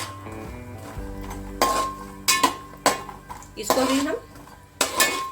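Walnuts stirred in ghee in a metal pan for dry fruit laddu, with repeated clinks and scrapes of a spoon against the pan over a low fry, close by, while someone talks.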